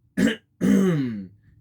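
A single person gives a short cough followed by a longer, voiced throat clearing, close and distinct against silence, as if to draw attention before speaking.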